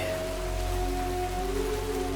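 Steady rain falls continuously on a surface, a constant even wash of sound with faint tonal hum layered beneath, no voices.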